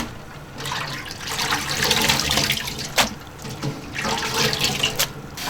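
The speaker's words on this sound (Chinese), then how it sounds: "这个海带要给多淘洗了面哈" Kelp is rinsed by hand under a running kitchen tap, with a steady stream of water splashing into the sink and sloshing as it is washed, close and uninterrupted with no voices.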